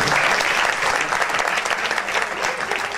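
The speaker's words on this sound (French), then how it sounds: "que vous pouvez encore applaudir" Conference audience applauding a speaker being introduced, a steady, dense wash of many hands clapping throughout with no pauses.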